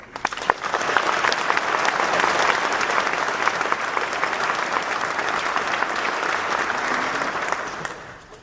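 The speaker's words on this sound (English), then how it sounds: "Please take a moment to give them another round of applause." A graduation audience gives a loud round of applause during a student speech, dense continuous clapping that swells and holds steadily before tapering off near the end.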